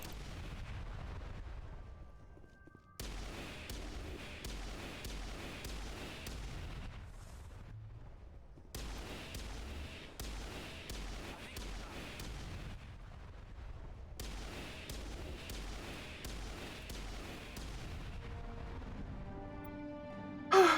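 Rapid bursts of gunfire aimed at barriers in the Mass Effect video game, sustained volleys with short pauses between them, loud and steady, with no talking over the shots.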